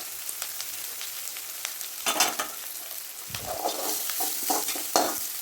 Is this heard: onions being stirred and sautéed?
yes